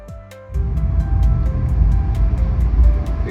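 A bus in Tokyo, its engine rumbling low and loud close by after a short quieter start, with a steady idling drone and periodic ticking clicks over it.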